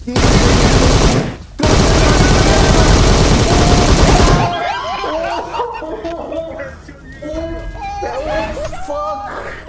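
Gunfire in the battle royale game PUBG Mobile, with long loud bursts of rapid automatic fire broken by a short gap, then excited voices talking and laughing over quieter game sounds.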